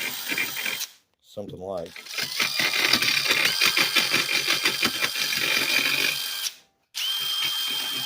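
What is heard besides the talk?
deburring metal edges with emery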